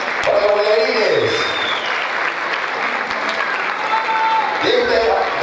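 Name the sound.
audience applauding merengue dancers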